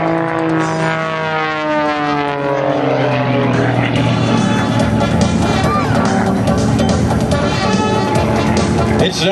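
Kirby Chambliss's aerobatic propeller airplane snap-rolls and climbs through a routine, its loud engine drone shifting pitch with sweeping Doppler-like rises and falls throughout, steady and close, with faint crowd or announcer noise underneath.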